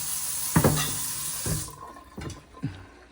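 Water is poured into a pot holding eggs in a home kitchen, a short splashing gush followed by a few separate softer splashes and clinks, close and fairly quiet, with no talking.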